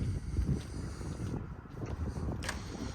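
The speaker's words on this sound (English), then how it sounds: "it is starting to get windy here" Low, rumbling wind noise buffets the microphone continuously, rising and falling in gusts with no one speaking.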